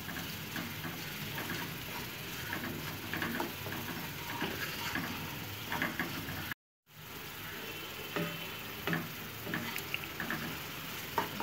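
Prawn pepper fry masala cooking in a pan, a steady close crackling sizzle with small ticks and stirring scrapes throughout, broken by a brief moment of near silence about midway.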